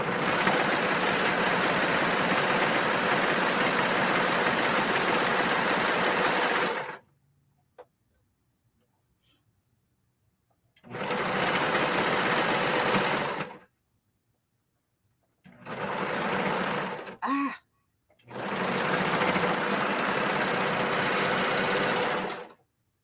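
Sewing machine stitching a sweatshirt with puff heat-transfer vinyl, running over previous stitches in four steady, rapid bursts of several seconds each, separated by silent pauses, close and loud with no talking.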